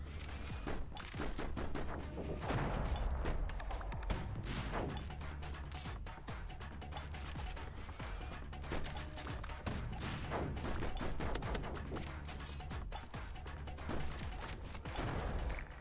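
Dense, sustained gunfire in a video game demo roars on without a break, with layered shots, bursts and explosive cracks filling the whole stretch loud and close.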